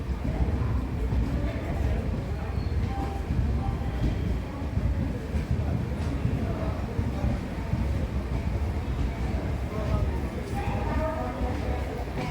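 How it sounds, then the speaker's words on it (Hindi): A passenger train on the Goa to Kerala coastal route pulls into Kozhikode railway station and comes to a halt, giving a steady, loud rumble of rolling stock and platform din throughout, with faint voices mixed in. "कोझिकोड रेलवे स्टेशन पर हमारी ट्रेन अब एक शानदार ठहराव ले चुकी है"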